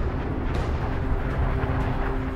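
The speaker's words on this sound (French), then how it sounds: "Les couches extérieures sont expulsées en une explosion cataclysmique." A supernova explosion sound effect from a space documentary: a dense, steady, rumbling roar that stays loud and even throughout, with no voices.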